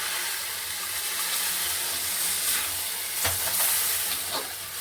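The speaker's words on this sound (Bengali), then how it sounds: "চিনি দেওয়ার পর একটু নেড়ে চেড়ে আমি দুধটা ঢেলে দিচ্ছি" Milk poured into carrot halwa cooking in a pan with desi ghee, making a steady, close hiss with a few soft stirring clicks and splashes partway through.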